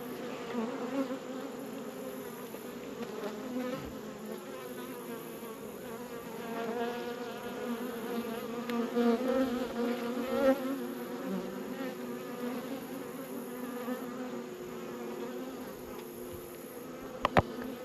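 A dense, steady hum of many agitated honeybees buzzing close by at an open hive during inspection, rising and swelling slightly throughout, with no voices.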